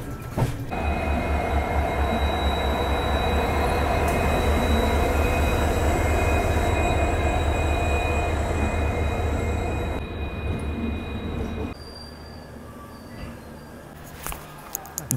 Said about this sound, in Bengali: 1 নম্বর প্ল্যাটফর্মে ট্রেন ঢুকেছে।